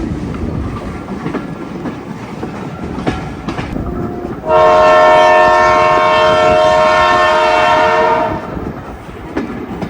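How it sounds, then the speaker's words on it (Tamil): A steam locomotive train rumbles nearby, then a loud, sustained whistle blasts for about four seconds before fading back into the rolling rail noise. "இந்த ஸ்டீம் என்ஜின் ட்ரெயின்"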